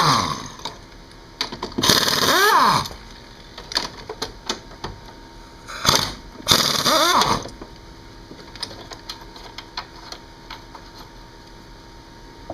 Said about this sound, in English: now we're going to remove the 3 large 16mm bolts on top of the strut